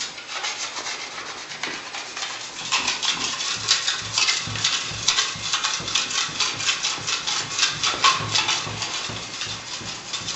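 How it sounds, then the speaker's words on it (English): A steel knife burnishes freshly patched Venetian plaster on a wall, giving a continuous rasping, rubbing scrape with rhythmic strokes, close up and fairly loud, with no talking. "he's using knife to burnish it"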